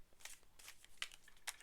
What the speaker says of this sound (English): That was such a messy shuffle.